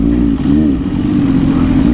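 An MV Agusta F3 800 motorcycle engine revs hard on the throttle, a loud, steady, close-up roar with a rising and falling pitch and no voices.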